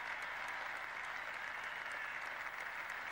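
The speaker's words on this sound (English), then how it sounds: "Crowd rising to him at the moment." A cricket crowd in 1970s England applauds a batsman reaching his century, a steady, dense wash of clapping that holds evenly throughout at moderate distance, with no voices standing out.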